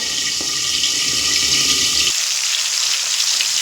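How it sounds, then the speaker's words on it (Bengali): Fish heads frying in oil in a covered pan, a loud close hiss and sizzle; a low rumbling layer cuts off about two seconds in while the bright sizzling carries on. "মাছের মাথা দিয়ে কিন্তু একটা ঢাকা দিয়ে ভাজা করে নিতে হবে"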